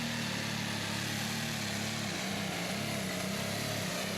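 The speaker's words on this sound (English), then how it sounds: "We'll see what Jeremy Freer can do here with his tractor called Under New Management." A modified pulling tractor's engine roars at a tractor pull, a steady loud distant drone with a deep low rumble that shifts slightly in pitch midway, without talk.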